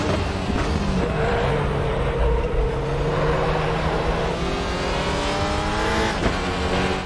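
WTCR touring race car accelerating hard at the Portimao circuit, engine note climbing steadily through the gears, loud and close with a continuous roaring drone and no voices.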